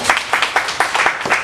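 A church congregation claps together in a steady rhythmic beat, about six sharp claps in quick succession, close and fairly loud.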